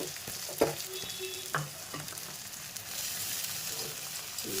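Chopped onion and garlic sizzle steadily in a hot pan with oil, and a few sharp clinks and scrapes of a stirring spoon against the metal sound close by.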